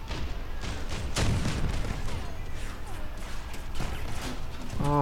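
Gunfire and cannon blasts from the vehicle combat game Crossout, a dense stream of booms and crackling shots with scattered sharp impacts, heard at a moderate level beneath continuous game noise.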